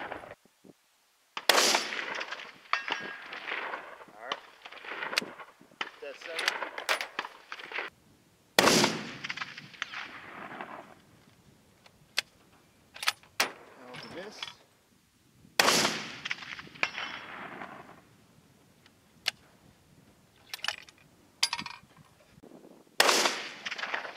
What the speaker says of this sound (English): we know this rifle is capable of doing some precision shooting